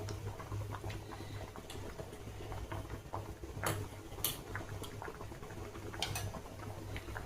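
Sambar with mango pieces simmering in a pot, a steady low bubbling with soft irregular pops and ticks running throughout, close and fairly quiet with no voices.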